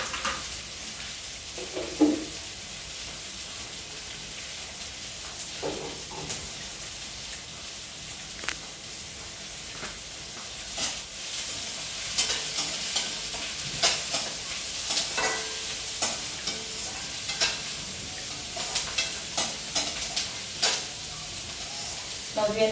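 Onions fry with bitter gourd (karela) in a pan, a steady sizzle with frequent stirring scrapes and clicks that grow busier toward the end.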